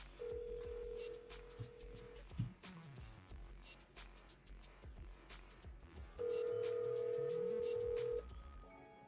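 Ringback tone on a redialed phone call, two long steady tones a few seconds apart with a quiet pause between, heard close through the line.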